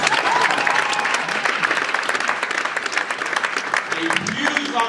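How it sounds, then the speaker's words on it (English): Dense, sustained clapping from an audience at a live UK launch event, loud and even throughout, with murmured voices and a short tonal sound near the end. "I need a huge round of applause for Toby DaCosta."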